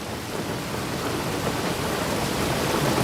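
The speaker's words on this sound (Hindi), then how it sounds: "लेकिन बाहर बारिश हो रही है।" Steady rain falls outside at night, a dense, even hiss with a low rumbling undertone that holds constant and close throughout, with no voices.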